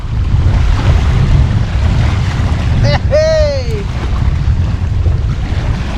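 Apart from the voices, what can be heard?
wind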